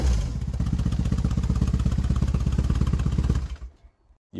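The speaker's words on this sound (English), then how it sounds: "That's a pretty beefy sound for a German motorcycle" A German motorcycle with aftermarket exhaust pipes idles and revs close up, a loud, deep, rapid pulsing beat that runs steadily, then cuts off abruptly near the end.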